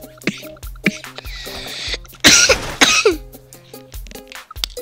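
A character in the Goat Simulator game gives a harsh burst of coughing in the middle, set among assorted game sound effects.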